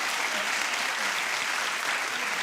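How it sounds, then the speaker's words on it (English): A short burst of steady studio audience clapping, dense and even from start to finish. "Clap if you think it's a good one."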